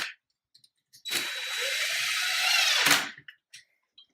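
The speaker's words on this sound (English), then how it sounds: "We got the screws on the other side to tighten up on that clamp." A power driver tightening screws on a cable clamp during a JUNO lighting installation, one close whirring burst of about two seconds with small clicks and taps before and after.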